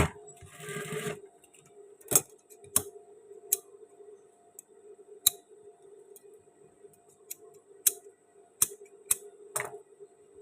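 Scissors snip through men's shirt fabric during sewing: a series of sharp, crisp cuts at irregular intervals, close and distinct over a quiet, steady background hum, with no talking.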